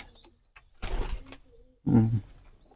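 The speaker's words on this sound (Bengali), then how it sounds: "এই যে কবুতরটা বসে রয়েছে" A pigeon perched in a free-range backyard pigeon-keeping setting gives one short, low coo close by, preceded by a brief rustling flutter, against a quiet background.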